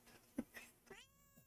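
A cat perched on a person's shoulder lets out a few short, close meows over about a second and a half, the last one a drawn-out, whiny call.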